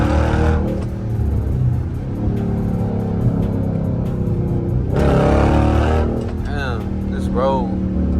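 A Dodge Charger R/T with a 345 engine drives along a bumpy road at night, its steady engine drone rising through a gear change with a brief rev near the end while someone talks over it.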